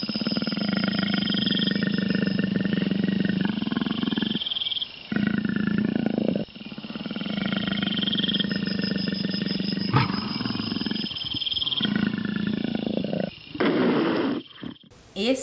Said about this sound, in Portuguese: Esse som é o som do leopardo.